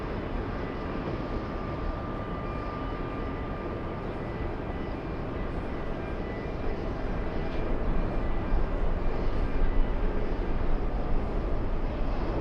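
An American Airlines airliner arriving from Miami lands on runway 13L at JFK: a steady, broad jet roar at middle distance that swells slightly louder toward the end, with no voices.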